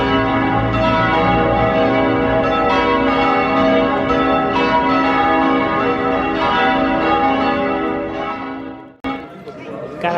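Church bells peal loudly and continuously over a Frankfurt square on Christmas Eve, their rich overlapping tones ringing for several seconds above crowd chatter before cutting off abruptly.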